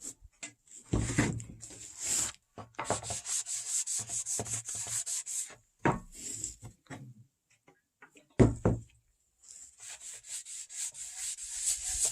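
Close, repeated rubbing of a cloth over a redwood deck board coated with boiled linseed oil, in steady back-and-forth bursts broken by short pauses.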